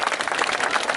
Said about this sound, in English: give this bird a round of applause